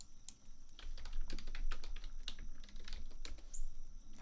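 Fast, crisp clacking from a fancy gamer computer keyboard, the keystrokes close-up and continuous in irregular bursts, with a faint steady hum beneath.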